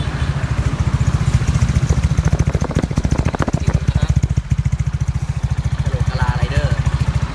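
A Honda PCX150 scooter idles steadily up close, its engine giving a continuous, even low putter with a regular pulse throughout while someone speaks over it.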